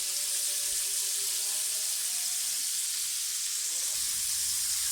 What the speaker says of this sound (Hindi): हमारे विंग्स बहुत ही ज़बरदस्त, बहुत ही क्रंची और क्रिस्पी फ्राई हो रहे हैं।